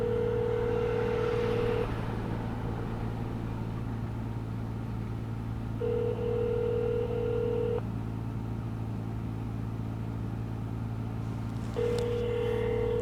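A telephone call rings unanswered in a long steady tone heard three times, each ring separated by several seconds of silence, over a constant low hum.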